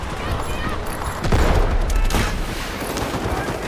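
Rapid gunfire in Garena's Delta Force shooter rattles in tight, continuous volleys, swelling briefly louder near the middle.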